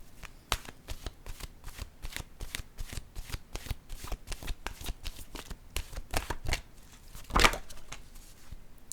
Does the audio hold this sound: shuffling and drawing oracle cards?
yes